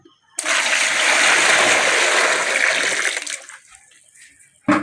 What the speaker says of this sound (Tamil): ஒரு சட்டி நல்லா போட்டு தண்ணி ஊற்றி நல்லா கழுவி எடுத்துக்கோங்க